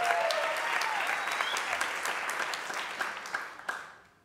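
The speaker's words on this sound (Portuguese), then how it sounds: "Salve de palmas!" An audience applauding at a tribute concert, a dense, even wash of clapping that holds steady, then tapers with a few last scattered claps and dies away at the end.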